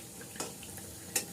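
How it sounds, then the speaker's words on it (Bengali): Malpua batter frying in hot oil, a faint, steady sizzle with a couple of short bright crackles standing out. "এখন মালপোয়া ভাজা হচ্ছে"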